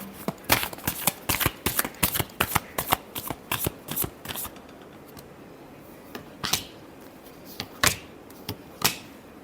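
Tarot cards being shuffled: a quick run of crisp riffling snaps near the mic, then slower, scattered single flicks with pauses between them.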